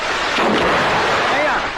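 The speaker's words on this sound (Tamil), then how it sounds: "இப்ப வெடி வெடிச்சதே அந்த சத்தம் கேட்கலையான்னு கேட்டேன்" A firecracker bursts nearby with a loud, broad blast that rolls on in a rumbling, crackling wash for nearly two seconds.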